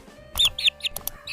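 Chickens cluck in a few short, sharp bursts close by, with quiet pauses between the calls.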